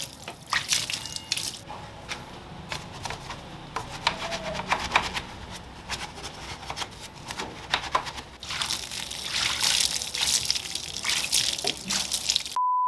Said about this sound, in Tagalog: Banlawan nyo lang ng tubig.